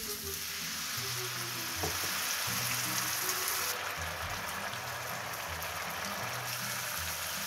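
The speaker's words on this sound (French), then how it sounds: "Quand le riz est toasté, je déglace au vin blanc." Toasted risotto rice hisses and sizzles steadily in a hot pan as white wine is poured in to deglaze it, a close, continuous crackling fry with light stirring and no talking.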